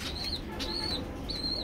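Racing pigeons in a loft giving three soft rising coos with brief wing flutters, close and moderately quiet over a constant low hum.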